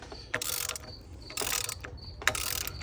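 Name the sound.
tightening Cummins rocker assembly to compress valve springs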